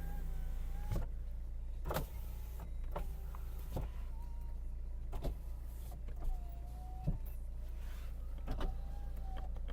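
Power window motors in a Renault Megane 1.5 dCi run in repeated short bursts, each with a whirring rise and a click at the stop, over a steady low hum inside the car.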